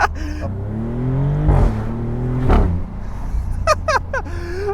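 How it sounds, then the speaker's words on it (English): A 2025 Maserati GranCabrio Trofeo accelerates gently and upshifts, its engine note rising through gears with sharp breaks at each shift and brief pops, loud and close from the driver's seat. "when I just gently get on the throttle and upshift"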